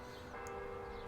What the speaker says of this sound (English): follow the church bells